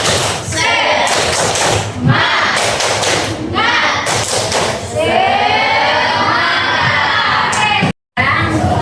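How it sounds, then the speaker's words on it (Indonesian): A group of children shout a rhythmic clapping cheer in a classroom icebreaker, loud and close, with repeated thumps and claps in bursts and a brief cut near the end. "Oke, kita mulai tepuk semangat."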